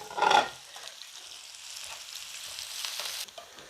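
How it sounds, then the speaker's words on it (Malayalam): Onions fry in oil in a pan with a soft, even sizzle after a brief louder clatter at the start, quiet and close, no speech. "സവോള അങ്ങനെ മൂത്ത് വരുന്നുണ്ട് കേട്ടോ"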